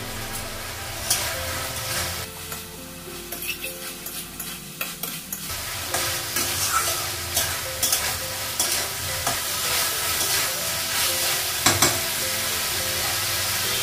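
A vegetable curry stir-fried in a pan for a Bengali vegetarian lunch, with steady sizzling and frying and a spoon scraping and stirring through the mix, continuous and close.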